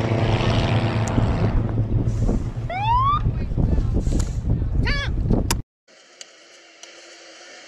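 Jet aircraft engine in a played video of an aircraft crash or close call, a loud rushing roar with rising whines and wind noise that suddenly cuts to a quieter hum, with voices over it.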